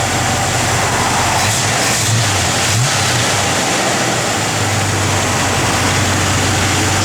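The 350 V8 in a 1969 Chevrolet C10 pickup runs at a steady, loud idle with a deep, continuous low-pitched rumble. It carries one brief swell near the start and no talking over it.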